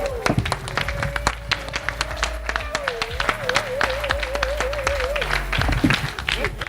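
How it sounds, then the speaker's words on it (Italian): An audience at a live rock event applauds on cue for a group photo, lively rapid clapping close by, with a voice or sustained tone wavering over it and some shouts. "Se fate un bel applauso, la foto viene sempre meglio."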